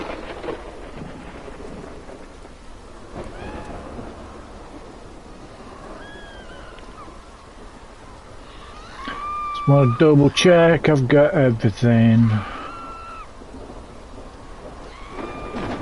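Rain patters steadily with low thunder rumbling in The Relic: First Guardian, during a lightning effect, while someone talks briefly at the start and sharp bright tones burst near the end.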